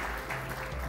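Brief burst of applause from a conference audience welcoming a speaker, steady dense clapping throughout with a low hum underneath.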